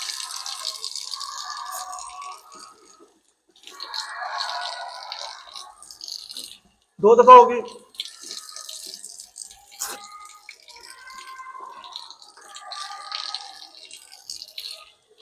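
Water sloshing and dripping as a person rinses the mouth during ablution (wudu), with short liquid bursts, swishing and splashes into a sink, several rinses in a row, close by with brief talk between them.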